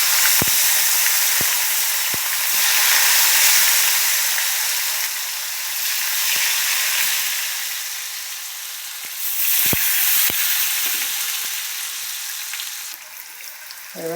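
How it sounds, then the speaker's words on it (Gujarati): Onion sizzles in hot oil for tempering in a homemade brinjal bharta, a continuous loud frying hiss that swells and eases, punctuated by sharp spoon taps against the pan. "ને પેલા ડુંગળીનો વઘાર કરીશું"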